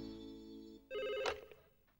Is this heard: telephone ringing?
yes